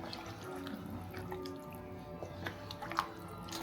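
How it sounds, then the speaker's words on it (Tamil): Coconut milk pours and trickles steadily, with soft drips and splashes standing out against a low background hum. "இந்த தேங்காய் பால் கொஞ்சம் ஊற்றி வச்சுன்னு வைங்களேன்"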